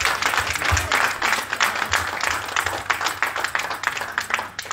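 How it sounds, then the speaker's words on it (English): Hands clap in a lively, uneven patter at an awards reunion summit, close and fairly loud, with some sharper individual claps and a busy room behind them. "If I don't clap for me, I'll clap for myself."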